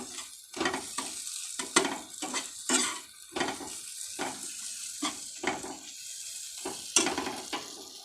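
A spice mix with a little salt is stirred and fried in a pan, giving repeated scraping, clattering stirs over about eight seconds between quieter sizzling gaps, close and fairly loud, with no voices.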